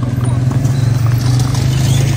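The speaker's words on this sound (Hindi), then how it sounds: "मैं चला रहा हूँ घोड़ा अकेले" Horse being ridden alone on an off-road trail, its hooves clip-clopping in a steady rhythm close by over a constant low rumble, with faint voices in the background.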